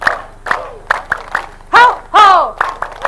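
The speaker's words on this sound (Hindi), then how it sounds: "बहुत अच्छे से ताली वादन करेंगे एक्यूप्रेशर पॉइंट के लिए" A group claps hands for acupressure during an International Yoga Day session, sharp separate claps in a rough counted rhythm, broken by loud chanted shouts from the group.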